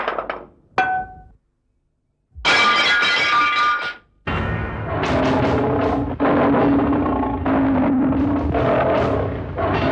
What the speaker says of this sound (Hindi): हमारा शीशा तोड़ दिया।